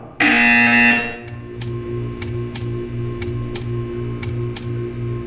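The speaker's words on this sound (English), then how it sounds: "You will hear a buzzer." A loud electronic buzzer in the game Portal 2 blares for about a second, then a steady mechanical hum follows with sharp, regularly spaced ticking clicks.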